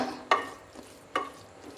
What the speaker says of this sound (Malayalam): സവാളയൊക്കെ ഒന്ന് നന്നായി വഴന്ന് വരുന്നവരെ ഒന്ന് ഇളക്കി കൊടുക്കാനായിട്ട് ശ്രദ്ധിക്കണം